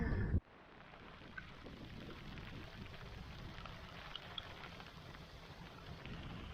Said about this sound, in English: All right, the rain set in.